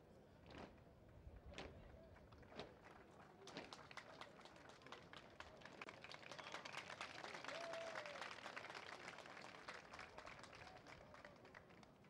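Audience at an official ceremony applauding a police performance, scattered claps building to sustained clapping, faint and distant.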